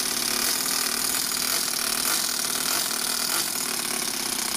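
Small 4-stroke overhead cam engine fitted in an RC car runs at a steady high buzzing pitch, loud and close for the whole stretch with no talk.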